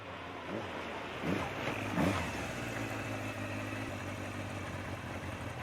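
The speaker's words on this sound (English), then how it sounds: "The low rumble of the engine echoes through the vacant business district." A steady low engine rumble from a video game drones throughout, with a couple of brief swells in the middle, no voices.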